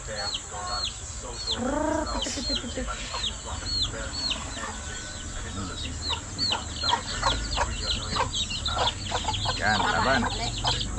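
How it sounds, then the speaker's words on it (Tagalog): Chickens cluck steadily in short, repeated calls around an outdoor rural spot, moderately near, over a low background hum and with a brief spoken remark. "Ganito yung manok kami."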